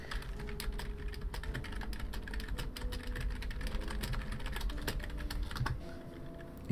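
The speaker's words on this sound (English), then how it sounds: "Actually, I'll type it into my chat." Rapid, continuous clatter of fingers typing on a computer keyboard, close and steady with dense irregular keystrokes throughout and no talking.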